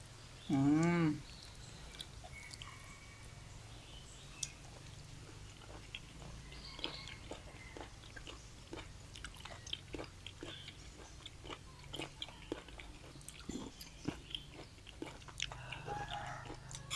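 Chewing on Thai soi ju, a dish of beef and crying tiger meat: soft, close biting and mastication sounds repeating steadily at low volume, with a brief louder voice-like burst near the start.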